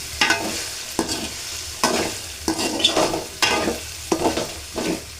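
Fried rice stirred and tossed in a pan, a series of rhythmic scraping strokes of a spatula against metal about once a second over a light sizzle, close and fairly loud, with no talking.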